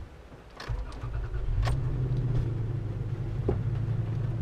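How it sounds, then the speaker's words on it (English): A 2016 Toyota Tacoma SR5 pickup starts up: a brief starter crank, then the engine catches and settles into a steady, low idle rumble close by, with a faint click partway through. "now that we've seen some of the truck, let's get it started up"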